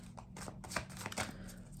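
A short burst of tarot cards being shuffled, quick riffling flutters close to the microphone, in a quiet room.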